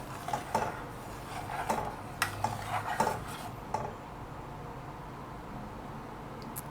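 A utensil stirs a thickening mixture in a metal pot, giving a few scattered clinks and scrapes in the first four seconds before the sound fades to quiet room tone.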